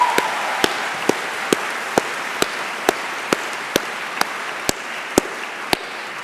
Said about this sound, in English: can I invite you to give a huge round of applause for the university staff?